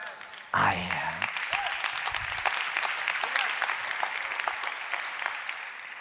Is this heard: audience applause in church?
yes